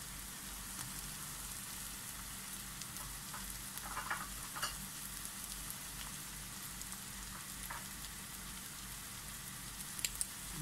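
Green chillies and onions fry in a pan with a soft, steady sizzle, broken by occasional light scrapes and taps of stirring, close but quiet, with no talking.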